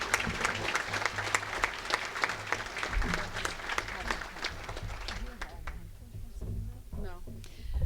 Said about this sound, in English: let's have one big last round of applause for everyone that was mentioned already